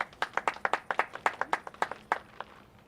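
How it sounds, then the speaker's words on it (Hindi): Wedding guests clap in a brisk, fairly even rhythm of about a dozen distinct claps, moderately close, slowing and fading out near the end. "जोरदार ताली।"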